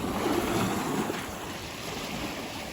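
Ocean surf at a sandy beach, a steady wash of breaking waves mixed with wind noise on the microphone, continuous and fairly loud with no talking.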